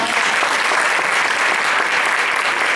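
Applause from the audience at a Christian dance school's Easter dance show, a dense, steady wash of clapping that fills the whole stretch at full loudness without pause.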